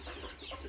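Chicken clucking in a backyard garden with ducks and chickens, a short faint burst of soft clucks over low background noise.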